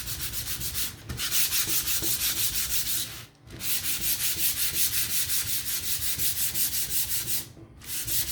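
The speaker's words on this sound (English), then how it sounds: "So take your 400 grit sandpaper and give this a nice sand." Wood being hand-sanded with 400 grit sandpaper, a steady rhythmic scratching of back-and-forth strokes, close and loud, with two brief pauses between passes.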